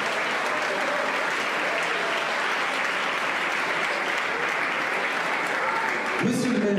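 Steady, sustained applause fills a hall from a large audience at the Miss Saône-et-Loire 2014 beauty pageant, loud and even throughout, with a voice rising over it at the very end.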